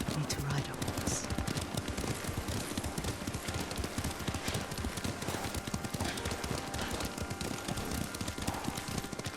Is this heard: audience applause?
no